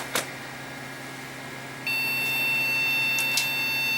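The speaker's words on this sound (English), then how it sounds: "Now I get nothing but a bunch of beeping" A junk Compaq Presario 6000 computer with a memory fault gives a small click, then about two seconds later a steady electronic beeping tone starts and holds at close range, with no talking.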